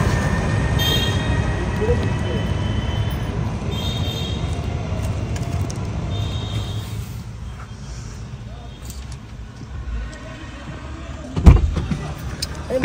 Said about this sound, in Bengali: টুম্পা এখন রাস্তা পার করে আবার ফিরে আসছে।